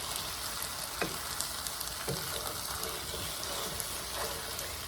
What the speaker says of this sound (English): Now we're going to give this a stir.